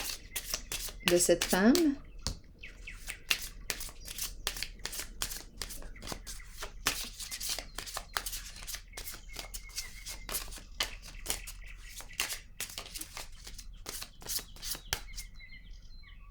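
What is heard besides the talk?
shuffling and drawing cards for a reading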